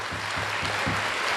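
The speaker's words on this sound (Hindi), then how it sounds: "तालियां बजा देंगे।" Audience at an Eid Milan mushaira in Lucknow applauding, a brief, dense spread of clapping with faint low thuds underneath.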